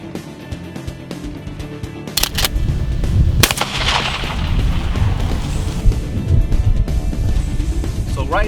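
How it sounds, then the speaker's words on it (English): A 12-gauge shotgun fires a nine-pellet double-aught buckshot load, with sharp, loud blasts cracking out over a steady rumbling background. "one shot from a 12 gauge double out buck"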